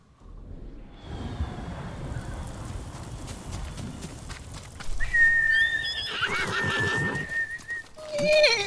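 A horse in the video game Ghost of Tsushima whinnies loudly several times, with hoof clip-clops and game ambience around it, rising to a sharp neigh near the end.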